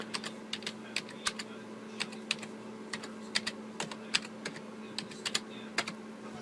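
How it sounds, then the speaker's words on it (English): Keys tapped one at a time as a password is entered on a computer keyboard, making sharp clicks in an uneven rhythm. They sound close and clear over a steady electrical hum, with no talking. "I'm going to go ahead and type in password, which is wrong"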